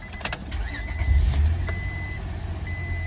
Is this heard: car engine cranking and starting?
yes